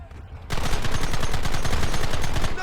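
Rapid automatic gunfire in a video game starts abruptly after a quiet moment and keeps going as a loud, evenly spaced stream of shots to the end.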